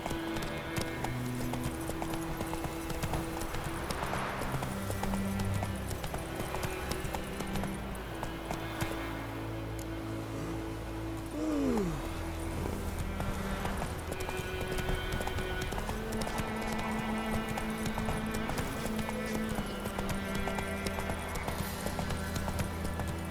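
Hooves of the horse Roach clip-clop in a steady galloping rhythm in The Witcher 3, continuous and moderately loud under game music and ambience, with a brief whinny near the middle.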